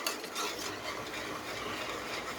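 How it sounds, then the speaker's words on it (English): A whisk stirs cheese sauce for creamy mac and cheese in a pot, a steady close scraping and swishing that runs unbroken without voices. "Mix, mix, mix, mix, mix. Whisk it in real good."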